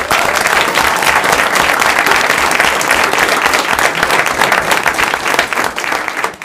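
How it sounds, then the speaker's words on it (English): A sustained, loud round of applause from the crowd at a Town of Monument Board of Trustees meeting, steady, close clapping across the whole stretch with no talking. "One more time, let's give them a great round of applause."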